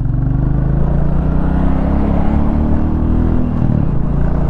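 A 2023 Royal Enfield Bullet 350 motorcycle pulls away from a halt in first gear, its single-cylinder engine giving a loud, close, steady thumping rumble that holds throughout.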